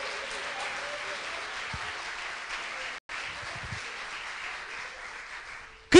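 A church congregation claps steadily in applause during a Portuguese-language sermon, a continuous moderate wash of hand claps with a brief break midway and a sudden loud hit at the end.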